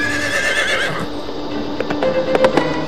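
A horse whinnies loudly in a long, wavering neigh, followed by a sharp series of clip-clopping hoof strikes close by.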